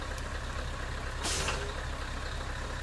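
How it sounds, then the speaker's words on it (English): Air brakes on a truck in Euro Truck Simulator 2 give one short, loud hiss of released air over a steady engine rumble, then the idle carries on alone. "did you hear the brakes do that?"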